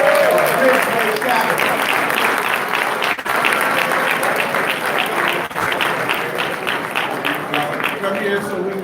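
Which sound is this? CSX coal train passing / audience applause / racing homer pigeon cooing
audience applause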